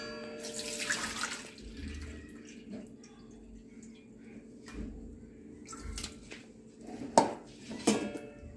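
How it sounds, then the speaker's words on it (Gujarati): Water being drained off soaked urad dal and rice in a kitchen, with trickling and pouring water, sporadic clinks of a steel vessel and a couple of sharper knocks near the end. "હવે એમાં પાણી બધું નિતારી લઈશું"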